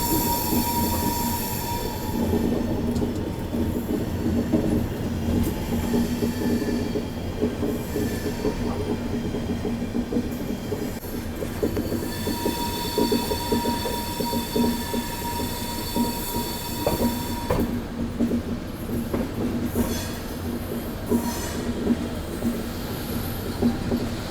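Shri Shakti AC Express passenger train running from Katra to New Delhi in dense fog, with a continuous loud rumble of wheels on rails, faint clickety-clack and intermittent wheel squeal, no voices heard.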